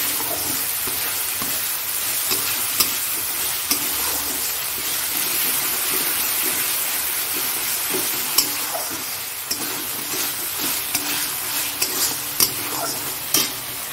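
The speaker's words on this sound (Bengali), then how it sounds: "এইবার টমেটোগুলো দিয়ে দেবো।" Tomatoes sprinkled with salt fry in a hot pan, giving a loud, steady sizzle close up. The spatula scrapes and taps now and then over the continuous hiss.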